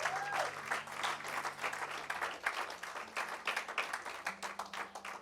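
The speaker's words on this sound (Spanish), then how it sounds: "Dele ese aplauso al Señor." A congregation applauds during a church service, a continuous crowd of clapping with sustained musical notes humming beneath, fairly soft and steady throughout.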